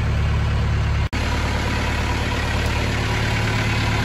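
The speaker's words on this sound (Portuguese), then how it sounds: "acabamos de ligar o motor" A car engine idles steadily up close after an alternator install, a constant low hum with one brief cut near the start, then continuing evenly.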